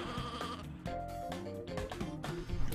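A sheep in the video game Looney Tunes Sheep Raider bleats over a busy, loud game music bed, its wavering cry fairly clear through the mix.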